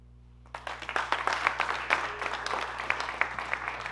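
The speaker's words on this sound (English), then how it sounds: "let's have a round of applause for the new world of open LLMs that we live in" Round of applause from a hackathon audience after a talk on open LLMs, starting abruptly after a brief quiet moment and continuing as steady, moderately loud clapping with a low mains hum underneath.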